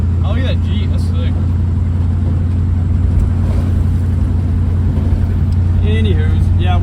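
Inside a Chevy Nova on a bumpy backcountry road, a low, steady engine drone and rumble fill the cabin without a break, with voices speaking briefly over it.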